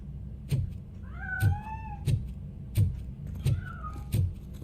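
A cat meows repeatedly in the RoboCop: Rogue City video game, several rising, drawn-out cries at a steady pace over low rhythmic background thumps.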